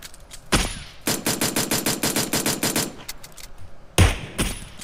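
P1911 pistol firing in PUBG Mobile: a loud single shot, then a rapid run of about a dozen evenly spaced shots, followed by a few more sharp blasts after a short pause.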